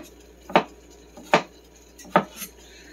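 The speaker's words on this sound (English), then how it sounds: "just cut the skin off of the ginger" A knife cuts the skin off ginger on a board, producing three evenly spaced sharp taps against a quiet background, close and distinct.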